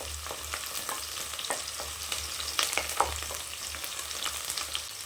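Ginger and garlic fry in a pan for tomato rice, crackling and sizzling steadily up close with a few light stirring clicks and no voices.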